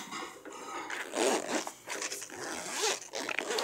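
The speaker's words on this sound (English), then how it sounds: "The zipper feels pretty sturdy on here." A zipper runs along a faux-leather case holding a 67-piece computer tool kit, several close, rasping pulls in short bursts with brief pauses between them.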